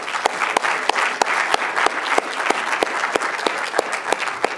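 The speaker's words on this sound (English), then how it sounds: "Another round of applause." A room of listeners claps after a design charrette presentation, with a continuous wash of applause and distinct sharper individual claps popping out at an irregular rhythm, fairly close.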